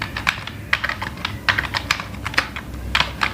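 Fingers type on a computer keyboard in uneven bursts of crisp, close key clicks with short pauses between them and no talking.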